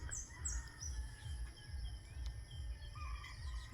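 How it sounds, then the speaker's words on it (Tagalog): Several birds chirp and trill faintly on a hot morning. The high calls are scattered over a steady low throbbing drone in the background, and nobody is talking. "So, ang daming ibon."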